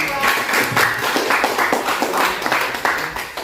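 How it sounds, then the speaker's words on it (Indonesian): Students in a classroom applaud after a group presentation, a dense patter of many hands clapping continuously and fairly close, with faint voices mixed in. "Oke, bertepuk tangan."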